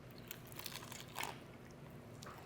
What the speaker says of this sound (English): The crunch, the flavor, the chicken is tender and juicy on the inside.